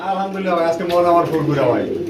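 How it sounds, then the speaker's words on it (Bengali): Pigeons in a crowded pigeon house coo in low, rolling calls close by, with a voice talking over them. "কেন ভাই ঘরে ভরপুর কবুতর"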